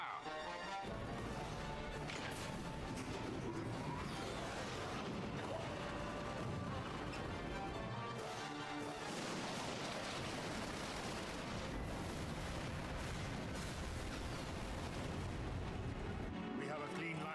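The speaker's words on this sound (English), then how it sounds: "Give word to the cannons." In a Final Fantasy 12 battle, ship cannons fire a volley as a dense, continuous barrage of booms and crashes that rumbles loudly for the whole stretch with no break.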